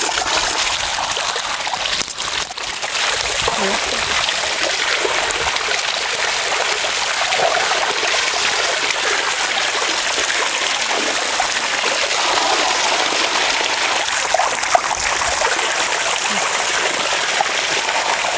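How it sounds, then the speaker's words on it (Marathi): Bitter gourds rinsed under running water, a steady close splashing and trickling stream that continues unbroken throughout. "तर आता आपल्याला हे आपण स्वच्छ धुवून घेऊया"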